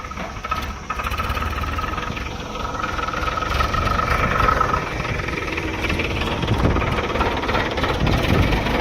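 A tractor engine runs steadily during road construction work alongside a JCB 3DX 74 hp backhoe loader, a close, continuous mid-pitched diesel rumble with a slight knock, no voices over it.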